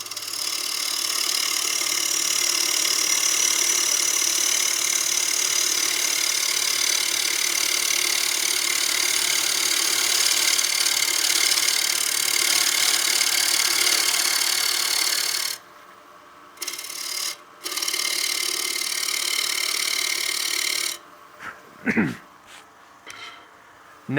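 Wood lathe turning a dry maple bowl with a side-wing cutting tool, a loud continuous broadband scraping hiss that stops briefly, resumes, then cuts out with a few knocks near the end.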